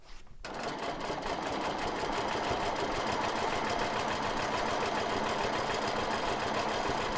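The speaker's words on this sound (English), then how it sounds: "We're going to make a stitch to the right, a stitch to the left, and then we're going to make a big swirl." A sewing machine runs continuously while quilting a mandala quilt, a steady close mechanical whir that starts abruptly and keeps an even pace throughout, with no voices.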